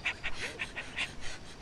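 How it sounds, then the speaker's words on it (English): A thirsty dog pants in quick, steady breaths, about six or seven rhythmic puffs, close and moderately loud with no talking over it. "He's panting like this."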